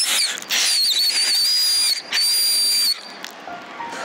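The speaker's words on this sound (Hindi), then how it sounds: "क्या कभी इसने टॉफी खाने के बाद उसके रैप पर से सीटी बजाई है?" A shrill whistle blown through a toffee wrapper, two long sustained high tones with a short break between, loud and close, then fading into quieter outdoor noise.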